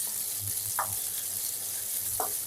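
Marinated ingredients for mixed fried rice sizzle lightly in a pan under a constant hiss, with two distinct scraping stirs spaced apart.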